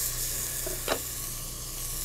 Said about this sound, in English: we sweat the onion